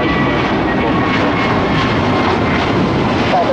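Airbus A321neo jet taking off from Tampa, a loud, steady engine roar filling the air at close range for the whole stretch without letup.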